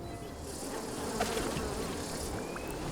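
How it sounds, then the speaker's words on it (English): Swarm of bees buzzing in the video game Evil Genius 2, a dense steady drone that fills the whole stretch, with faint game effects layered over it. "I love the bees"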